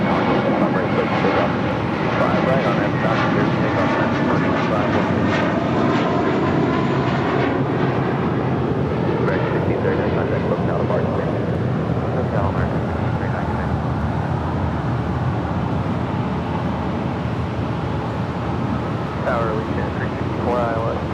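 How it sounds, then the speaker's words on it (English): An Alaska Airlines 737 MAX 9 arriving from SFO at LAX roars loudly and continuously, a broad engine rumble sustained across the whole stretch with a faint voice now and then. "This flight coming in from SFO, Alaska Airlines Flight 1308 on the 737 MAX 9"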